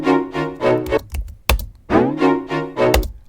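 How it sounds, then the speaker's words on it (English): A string section line played on a Complete Control keyboard, without pitch bend, from a beat. Rhythmic sustained string chords pulse in a repeating pattern with punchy low hits between them, with no voices. "I have a string section which I played in Complete Control."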